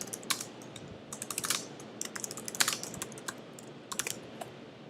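Notes typed on a computer keyboard in quick bursts of light, close clicking keystrokes, pausing briefly between runs, alone in a quiet room.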